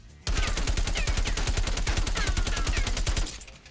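An AK-47 fired on full auto in Black Ops Cold War, one loud, close, rapid burst of evenly spaced shots lasting about three seconds, then it stops abruptly.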